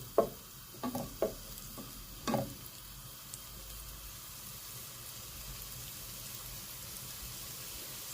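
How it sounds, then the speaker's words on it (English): Chopped onions frying quietly in a pan for a Moroccan kefta tagine, a soft steady sizzle after a few brief clatters of stirring near the start. "Going to slowly start to sizzle."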